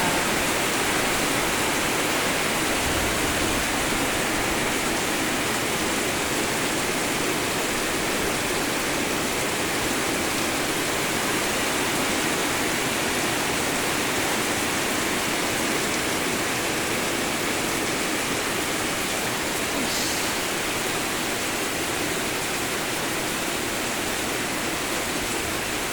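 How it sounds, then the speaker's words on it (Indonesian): Heavy, steady rain pours down continuously, a dense, loud, even hiss that fills the whole stretch without a break, with no voices over it. "Hujannya deras merata."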